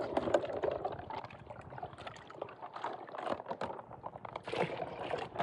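Water sloshes and splashes inside a small drum as it is rinsed out before mixing a spray for guava plants. The sound is close, irregular and fairly quiet, with no speech.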